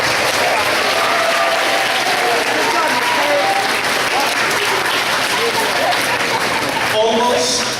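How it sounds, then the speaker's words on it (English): A school audience gives a big round of applause, loud sustained clapping with crowd noise and voices mixed in throughout. "So can we give Miss Terry a big round of applause?"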